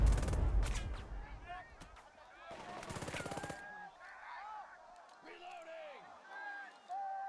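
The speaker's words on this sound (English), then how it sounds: "nope, just an MG42" Bursts of MG42 machine-gun fire in the wartime strategy game Burden of Command, loud rapid rattles at the start and again around the three-second mark, with game sounds and voices continuing in between.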